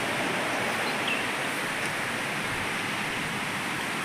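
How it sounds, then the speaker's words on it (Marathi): A soft, steady rush of flowing water near Ramling temple at Palsambe, Gaganbawda, Kolhapur, fills the air, even and unbroken like a distant stream, fairly quiet with no voices. "पाण्याचा आवाज वगैरे येतोय"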